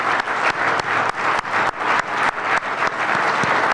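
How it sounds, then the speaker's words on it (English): A banquet audience applauds elected officials at a chamber awards event, loud rhythmic clapping in a steady pulsing beat, with the whole crowd clapping together in time from start to finish. "Let's give them a round warm of applause for their hard work."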